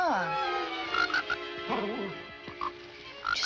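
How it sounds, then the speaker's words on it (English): A small frog croaks in a 1959 film soundtrack, with several short, close croaks spaced irregularly over quiet background music. "Just a little frog."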